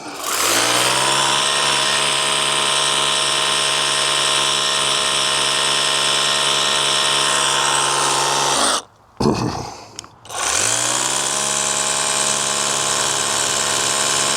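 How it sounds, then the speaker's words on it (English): A battery-powered pressure washer sprays down a motorbike with a steady, loud motor whine. The whine cuts out for about a second, then spins back up and holds. "a good thing about this pressure washer over, say, like a 1600 or 2500 gas powered one is"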